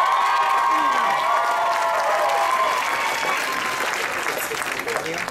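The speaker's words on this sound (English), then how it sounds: "Big round of applause." Steady, dense applause from a live audience greeting a performing music duo at a season finale show, with a few cheers and shouts mixed in; loud and continuous throughout before easing slightly at the end.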